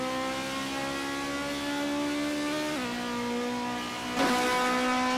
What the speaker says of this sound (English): I changed the sound for the car.